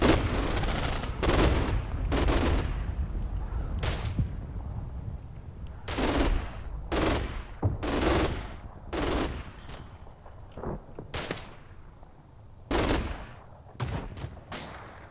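MG42 machine guns fire in the World War II strategy game Combat Mission, repeated rapid bursts of a second or so, loud and sharp, separated by short pauses.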